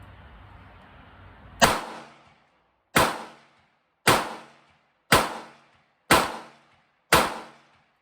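Six sharp gunshots from a Ruger LCR revolver and a Marlin 883 rifle in .22 Winchester Magnum, loud and close, each cracking out then fading in a short echo, spaced about a second apart after a stretch of low background rumble.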